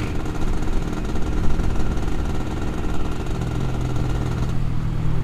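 Suzuki FIZ R motorcycle on its stock exhaust, idling steadily up close with a continuous low engine note and a slight rise in pitch toward the end.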